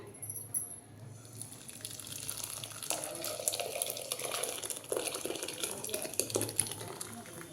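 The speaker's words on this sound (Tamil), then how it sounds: "ஒரு வெள்ளை துணியை போட்டு இப்போ நான் வந்து பால் வடிகட்டுறேன்" Milk being strained through a white cloth and squeezed while making rasgulla, giving soft, continuous wet trickling and splashing with cloth handling close by, running steadily with no talk.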